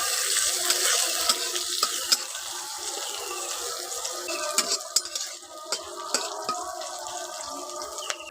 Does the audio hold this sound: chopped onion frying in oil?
yes